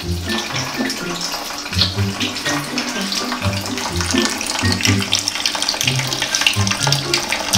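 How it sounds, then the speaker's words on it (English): Water runs steadily from a tap into a sink or tub, a continuous splashing rush at moderate volume, with no talking heard over the flow. "I'm running the water for you so you can play a little bit with the water."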